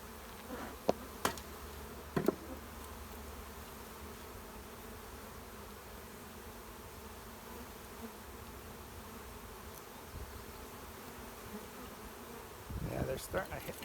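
Honey bees hum faintly and steadily around an opened beehive during spring preparation, with a few sharp handling clicks early on and brief rustling near the end.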